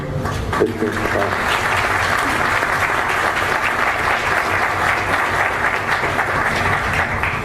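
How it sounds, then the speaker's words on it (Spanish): A lecture audience in a conference hall breaks into sustained applause in memory of a former figure, steady dense clapping filling the room from start to finish at an even, loud level. "yo pediría en la memoria de don Rodrigo Carazo un aplauso, por favor"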